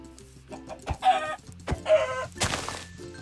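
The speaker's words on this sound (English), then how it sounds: "I'm gonna kill this chicken" A chicken clucks and squawks in short, sharp bursts, three or four loud agitated calls spaced close together, with faint background sounds between them.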